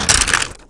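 Protective film comes off the back of a Samsung Galaxy S4 with a quick, close hiss of peeling plastic, a bright crackling rip that ends abruptly after about half a second.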